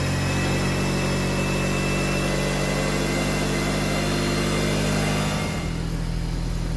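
A 1998 Talon engine holds a steady, high idle, with a continuous drone and constant loudness and no talking over it.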